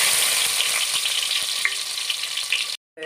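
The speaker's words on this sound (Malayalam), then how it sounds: "വെളിച്ചെണ്ണ ഒഴിച്ചു കൊടുക്കാം ചുള്ളി ചേർത്ത് കൊടുക്കാം" Shallots frying in hot coconut oil give a steady, loud crackling sizzle close by, with faint stirring clinks, stopping abruptly near the end.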